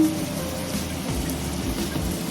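Beef stock poured into a pot of marinated beef for mechado, a soft, continuous, close splashing gurgle of liquid lasting a couple of seconds.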